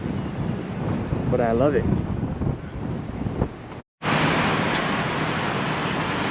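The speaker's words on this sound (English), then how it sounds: "The wind makes it even colder" Cold wind buffets a microphone outdoors in winter Boston, a continuous rough rumbling roar with a brief dropout, while a person speaks briefly over it.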